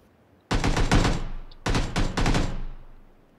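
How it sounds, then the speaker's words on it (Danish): Bursts of automatic gunfire crackle in a shooter video game: a long, loud volley, a short pause, then a second burst that trails off into echo. "Hvor bliver jeg skudt fra?"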